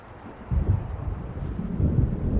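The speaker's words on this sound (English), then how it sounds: "It seems there's a storm coming." Low rumbling thunder of an approaching storm rolls in the Alan Wake Remastered game over an ocean setting, two heavy swells of deep rumble building over steady wind-like noise, with no talking.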